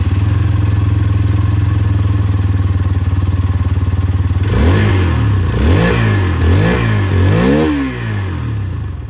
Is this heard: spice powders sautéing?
no